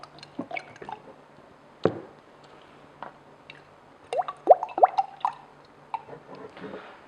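A 50/50 blend of naphtha and boiled linseed oil is worked onto a cherry tabletop, giving soft wet squishes, drips and brushing rubs at close range, intermittent and quiet, with no talking.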